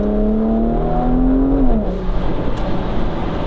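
Porsche Macan GTS phase 2 revving, a steady rising engine drone that drops as the PDK gearbox shifts, followed by crackling exhaust pops and burble; loud and close, no talking.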